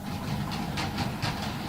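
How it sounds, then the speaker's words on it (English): A model train runs on a layout with a steady mechanical rumble and rhythmic, whooshing pulses repeating at close range, all within a short stretch without any voices. "we've got a train coming outside then"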